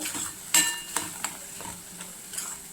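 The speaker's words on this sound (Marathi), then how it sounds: "कोल्हापुरी चटणी म्हणजे कांदा लसूण मसाला जो असतो हे दोन्ही एकत्र शिजवायचं" Kolhapuri onion-garlic masala fries in oil while a spoon stirs it, giving a soft sizzle under several sharp clinks and scrapes of metal against the pan, close and fairly quiet, with no talk.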